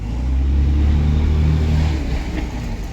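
A black dually pickup truck's engine runs and revs up loud and close, a deep rumbling surge that eases back over a few seconds, with no talk over it.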